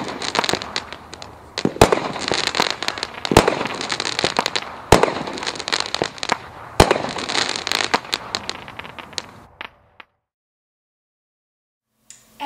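Brothers SEAL Team 6 firework cakes firing a rapid series of sharp, loud shots and crackling bursts for about ten seconds, then stopping abruptly into near silence with one faint late pop.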